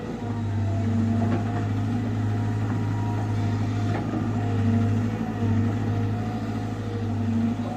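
A CAT320 excavator works at a farm pond, its diesel engine rumbling in a steady, loud, continuous drone with slight load swells and faint clanks, close by with no talking.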